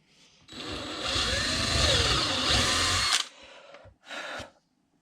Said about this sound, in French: Et maintenant, je vais percer à 5 pour l'axe du compas.